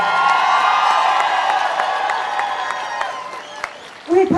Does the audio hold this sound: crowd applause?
yes